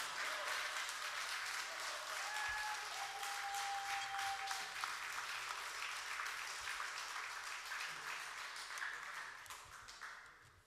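Sustained audience applause after a live music performance by a band in a museum, dense steady clapping lasting throughout and slowly fading near the end, with a faint brief whistle-like tone early on.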